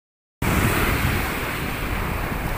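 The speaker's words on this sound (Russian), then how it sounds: "Морюшко сегодня такое, с волнами" Sea surf rolling onto a beach, a steady loud broadband wash that starts abruptly after a short silence and continues unbroken, with some wind rumble on the microphone.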